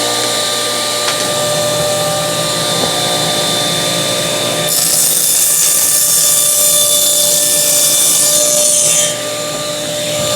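A power saw fitted with a CMT Orange blade cuts through melamine board, giving a steady, loud whine that runs throughout and brightens into a harsher, fuller rasp midway before easing back.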